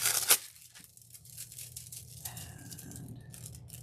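Foil is peeled from satin boxes, opening with a sharp ripping tear, then quieter crackles and soft sticky pulls of the adhesive foil up close over a low hum.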